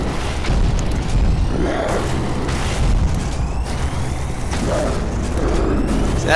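Grenades explode in Doom 3 amid combat: several loud, heavy booms land in quick succession over a continuous rumbling game background.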